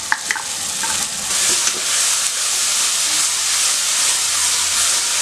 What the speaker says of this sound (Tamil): தக்காளி, வெங்காயம், பூண்டு இதெல்லாம் அரைச்சி வச்சோம்ல, இதை மட்டும் நீங்கள் தனியாக ஊற்றிக்கோங்க